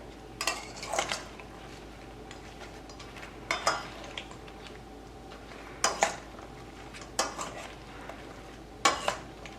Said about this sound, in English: the last step is just to stir it all together